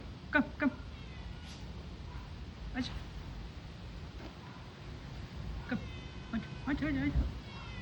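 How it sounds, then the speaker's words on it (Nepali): A stray cat meows several times in short harmonic calls, some near and some a bit softer, over steady outdoor background noise with people talking. "ए यहाँ फेरि अर्को जङ्गली बिरालो आएछ"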